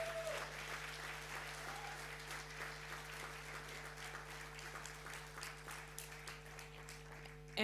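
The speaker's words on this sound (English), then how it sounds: "I think Her Excellency deserves another round of applause" Audience applause for Her Excellency at a celebration event, a sustained wash of many hands clapping at moderate distance, steady throughout with no break.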